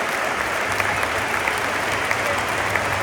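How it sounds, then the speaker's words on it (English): A stadium crowd of football fans applauds the arriving away supporters, dense continuous clapping spread wide around the stands for a few seconds. "Fair play to them, and they'll get a round of applause from all of ours."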